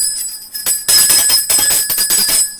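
Celebratory bells ring in the Football Manager 2022 football game, a bright, dense metallic jangle of repeated strikes over a steady high hum, loud and continuous after a short lead-in.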